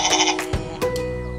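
Several people together imitate a goat's bleat during a group game, a couple of loud, wavering voiced bleats close to the listener.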